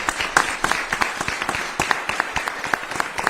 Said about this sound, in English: give yourselves and these young men a round of applause